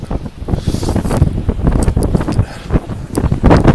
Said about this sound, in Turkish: Şu anda Datça çok rüzgarlı. Fırtınalı bir Datça'mız var.